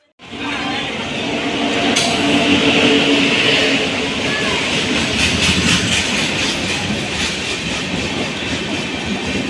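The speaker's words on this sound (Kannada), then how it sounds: "ಇವಾಗ ಫೈನಲಿ ಟ್ರೈನ್ ಕೂಡ ಬಂತು" A passenger train pulls into a busy railway station. A loud, continuous rumble with rhythmic clickety-clack from the wheels builds up close by, with a brief metallic squeal early on.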